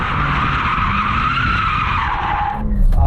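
A BMW M3 or M4 launching hard, its tyres squealing in a loud, sustained screech over engine roar, the squeal fading just before a brief burst of revving.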